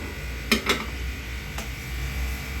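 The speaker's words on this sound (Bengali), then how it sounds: "দিয়ে এখন মশলাটা আমি কষিয়ে নিব।" A spice paste of chilli and coriander powder is fried for a drumstick and potato curry; a spatula clanks twice in quick succession against the pan, then once more, over a steady low sizzling hiss.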